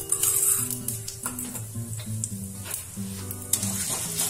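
Chana dal and mustard seeds frying in hot oil in a pan, a close crackling sizzle broken by short stirring scrapes and faint clinks, with no speech.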